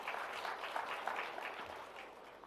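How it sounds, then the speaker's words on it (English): Audience at a water conference clapping, a dense patter of many hands in a hall, moderately loud and steady for a couple of seconds before easing slightly. "Let's give another applause to Dr. Liyanage, ladies and gentlemen."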